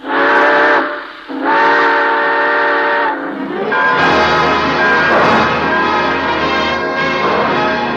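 A loud steam train whistle sounds in two long blasts, followed by the rumbling, hissing noise of a train starting to move.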